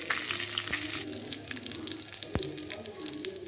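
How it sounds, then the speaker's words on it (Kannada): Cumin seeds crackle in hot oil in a pan, a close steady sizzle broken by a couple of sharp knocks. "ಇಲ್ಲೊಂದು ಸ್ವಲ್ಪ ಜೀರಿಗೆ ಹಾಕಿದ್ದೀನಿ ಮತ್ತು ಒಂದು ಸ್ವಲ್ಪ ಹಿಂಗೆ ಸೇರಿಸ್ತಿದ್ದೀನಿ"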